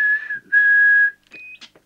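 Someone whistles a steady high tone into a Mustang CB1000 CB radio microphone during transmit alignment, pauses briefly, holds it again, then gives a short higher whistle followed by faint clicks.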